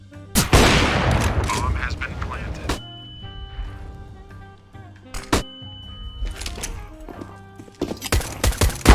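Gunfire from an AWP sniper rifle in the video game CS:GO, sharp loud shots at the start and again mid-clip with a cluster near the end, mixed with game sounds and talking.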